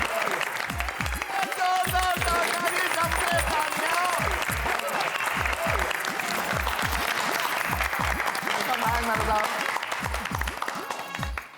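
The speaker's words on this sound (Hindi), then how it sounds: "आपके इस उपलब्धि के लिए एक बार फिर से जोरदार ताली।" An indoor clubhouse crowd applauds award winners, producing dense, sustained clapping that stays loud and even from start to finish, with a few voices mixed in.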